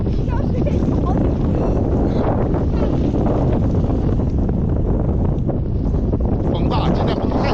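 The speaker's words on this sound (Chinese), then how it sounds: "风大，今天风太大" A strong wind blows across an open paddy field, a loud, constant roar of buffeting air against the microphone with no pauses.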